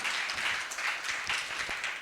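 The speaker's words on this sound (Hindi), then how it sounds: "तालियां कमजोर लग रही हैं आपकी, सदन गूंजे इतना तो हो" Audience applause at a Hindi poetry recital (kavya adhiveshan) in Indirapuram, Ghaziabad, a steady wash of clapping from a crowd lasting about two seconds, fairly even in loudness with no voices over it.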